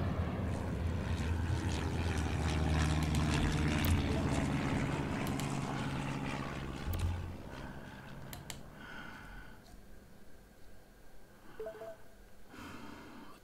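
Airplane taking off in the Airport Madness video game: a loud sustained jet engine roar that fades after several seconds, followed by quieter game sounds with brief electronic tones.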